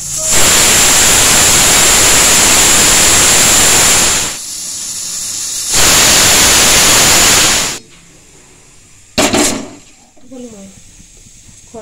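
A pressure cooker holding lentils and vegetables lets out two long, loud hissing whistles of steam with a short gap between them, close by, then fades to quieter kitchen sounds.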